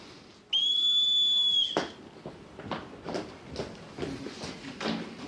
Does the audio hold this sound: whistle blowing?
yes